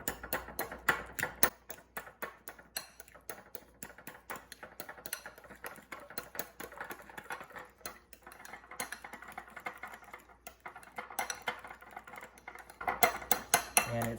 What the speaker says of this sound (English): Use the back of my fork, and I'm going to mix it all together.